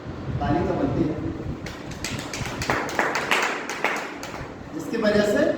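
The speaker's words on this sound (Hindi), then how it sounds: "ताली तो बनती है।" A brief burst of audience clapping rises in the middle of a business marketing-plan seminar in Bhopal, with a voice speaking before and after it.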